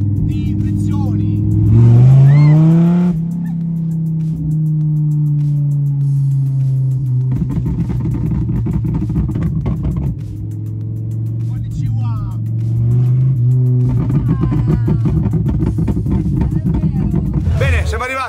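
A Dodge Viper engine revs and drones through several long pulls with sharper crackling bursts in between, loud and close, like an exhaust popping on and off throttle.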